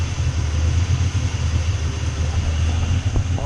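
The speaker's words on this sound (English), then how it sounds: "Okay, engine's running." A Luhrs 28 boat engine runs at a steady idle after a timing adjustment, a continuous low rumble close by with an even, unbroken drone and no talking.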